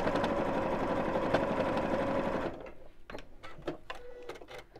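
A sewing machine stitches fabric along a seam in a steady, fast whirring run that stops partway, followed by quiet handling sounds.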